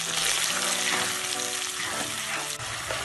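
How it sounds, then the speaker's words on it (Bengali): Spice paste fries in a pan over a medium gas flame for a Bengali mixed vegetable curry. A dense, steady sizzle runs throughout, with faint stirring scrapes and no voices. "এক মিনিট মতো সময় ধরে আমি মশলাটা কষিয়ে নিয়েছি"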